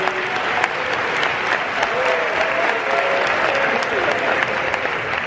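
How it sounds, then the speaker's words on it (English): A theater audience applauds warmly after a film Q&A at a festival screening, a dense steady clatter of many clapping hands sustained for several seconds, with a faint voice beneath. "one more round of applause for Andrew Ahn, Dolphin Booster, and Matt Ro"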